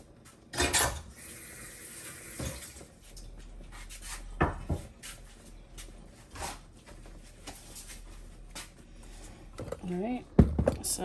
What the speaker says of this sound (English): let me move the cutting board. I'll be right back. Put all this away.